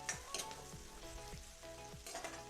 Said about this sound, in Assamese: মই এইখিনি ভালকৈ অকণমান ৰঙচুৱা হোৱালৈকে ভাজি থাকিম